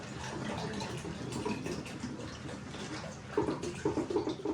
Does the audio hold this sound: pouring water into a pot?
yes